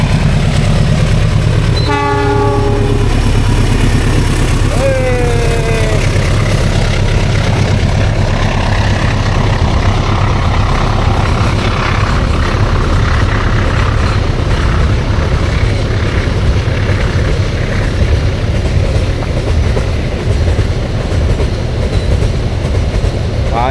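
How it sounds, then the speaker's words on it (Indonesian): A long freight train rumbles past at close range with a loud, continuous roar of rolling wagons and rail clatter, and a brief horn toot sounds early on. "Oh, kereta barang biasanya nih."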